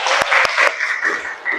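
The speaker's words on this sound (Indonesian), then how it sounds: "Baik, tepuk tangan untuk Saiful." Brief, scattered clapping from pupils in a classroom rewarding a student, lasting about a second and a half, with a few sharp individual claps standing out.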